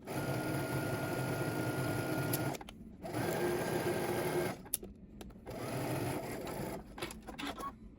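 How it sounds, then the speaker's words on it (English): Sewing machine stitching a sleeve underarm seam at a 5/8 inch allowance, a steady close mechanical whirr in three long runs broken by short pauses. "Now we're going to go ahead and stitch using 5/8 of an inch seam allowance, starting at the hem and working our way up."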